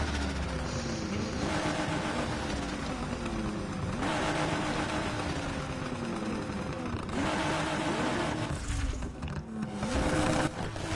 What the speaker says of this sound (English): V12 power all day long.